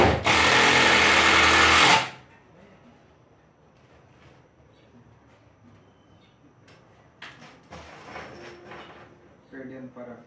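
A power drill driving 3.5 x 40 screws into wood rattles loudly for about two seconds, then stops, followed by quieter handling clatter and someone talking.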